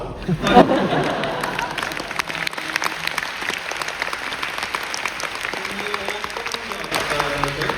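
A theatre audience applauding at a stage performance, a sustained wash of clapping from many hands, moderately loud and fairly close, with a voice speaking over it.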